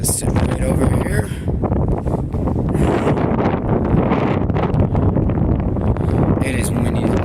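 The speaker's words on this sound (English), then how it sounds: "It is windy over here too." Wind at night during a severe thunderstorm, strong gusts buffeting the microphone in a constant heavy rumble with rustling, while someone speaks over it.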